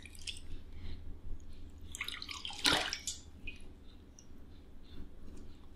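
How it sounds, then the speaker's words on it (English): Water splashes and drips as a face is washed over a basin, with one louder splash in the middle of a run of soft, close dripping and squishing sounds. "you can go ahead and wash your face. I'm just gonna use the basin"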